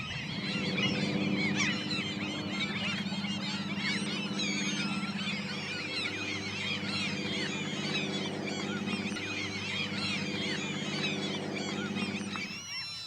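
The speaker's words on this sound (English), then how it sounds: "regardless of the raucous short-billed gull colony on the lagoon's island" A raucous short-billed gull colony on a lagoon island in Anchorage, Alaska, giving a dense, continuous chorus of honking, squealing calls at steady loudness throughout.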